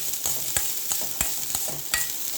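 Cauliflower being stirred in a pan, with several sharp scraping knocks of the spoon spaced through a light, steady sizzle, close and fairly loud, no talking.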